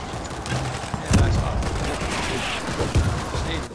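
Gunfire in the co-op zombie shooter World War Z, with bursts of rapid shots and a couple of heavier booms over a continuous noisy background.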